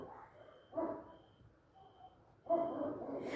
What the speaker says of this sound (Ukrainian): А собаки оце гавкають